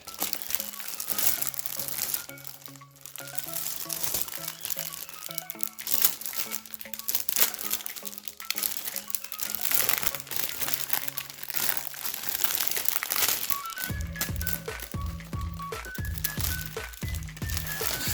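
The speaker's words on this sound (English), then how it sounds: "Slide it out of the plastic here." Plastic packaging crinkles and rustles close by in bursts as a Superhive 550+ XenoSkin playmat is slid out, with a soft music bed running underneath.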